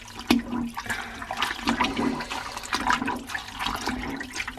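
Running water rinses naturally dyed fabric, a loud close splashing gush with uneven surges and sloshes throughout, no voices over it.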